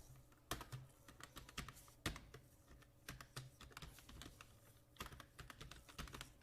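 Fingers tap quickly on a computer keyboard, near and fairly faint, with irregular bursts of clicking keystrokes and a few heavier key presses, no voices.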